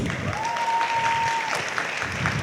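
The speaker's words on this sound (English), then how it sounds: "Give them a round of applause." Audience applause for the backstage crew at a talk, a steady even clatter of many hands filling the room, with a faint sustained tone sounding briefly in the middle.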